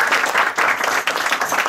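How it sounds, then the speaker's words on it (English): Applause from an audience at a music academy student program, a dense, steady wash of many hands clapping close by, with no talk over it. "I'm going to ask you guys for a round of applause"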